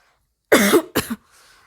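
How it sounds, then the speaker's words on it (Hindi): Two short, light coughs close to the mic, one after another, followed by a faint breathy trace and then quiet. "तुम हल्का खांस रही हो।"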